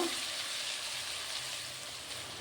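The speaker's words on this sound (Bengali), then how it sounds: "পোস্ত আর কাজু বাদাম বেটে রাখা তিল একসাথে আমি দিয়ে দেবো। এটাকে আমি ভালো করে তেলে ভেজে নেব।" A paste of poppy seed, cashew and sesame fries in oil with a constant soft hiss and faint sputtering, fairly quiet and even throughout.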